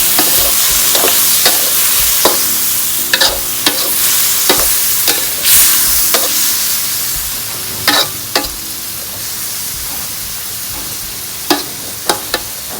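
A spicy eel stir-fry sizzles hard over high heat after water is added to the hot pan, with a loud continuous hiss broken by frequent sharp stirring scrapes and clanks, no talk.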